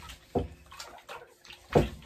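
Lathered hands rinsed under running water in a cabin, a steady close splash and trickle with a few louder gushes as the hands move through the stream.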